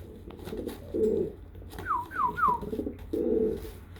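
Kanat Balon pigeons coo in low throaty bursts, and a short series of three rising whistled calls sits between the coos, all close and fairly clear with no talking.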